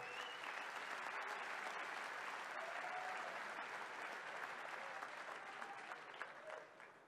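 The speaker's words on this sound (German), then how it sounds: "Ist, denke ich mal, für unsere Sponsoren durchaus einen großen Applaus wert" Sustained applause from an audience at a mixed martial arts fight night in Munich, steady and dense for several seconds before tapering slightly at the end.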